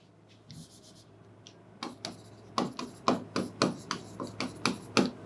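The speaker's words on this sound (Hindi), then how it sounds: "इसे वहां लिखना है ना।" Chalk or marker strokes on a board during a Class 11 trigonometry lesson, a rapid series of short scratchy taps and scrapes that grow louder and more regular, heard up close with no voice over them.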